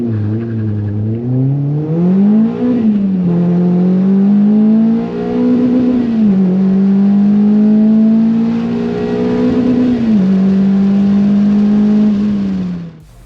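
An 8th-generation Honda Civic Coupe with a K24A2 engine revs loud and close, its steady tone rising in several climbing pulls and easing back before a final cutoff.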